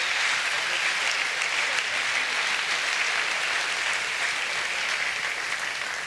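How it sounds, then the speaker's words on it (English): A crowd at a startup event applauds performers after a Rubik's Cube act, a continuous wash of clapping that holds steady throughout, moderately loud and unbroken, without talk over it. "Give these guys a round of applause."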